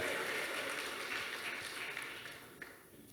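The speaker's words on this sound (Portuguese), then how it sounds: "Vamos aplaudir o Senhor." A church congregation applauding together during a worship service, a steady broad wash of clapping that holds through and slowly fades toward the end.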